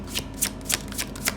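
Tarot cards are shuffled close up in a brisk run of riffles, four or five crisp papery bursts over a little more than a second, with a steady low hum underneath and no speech.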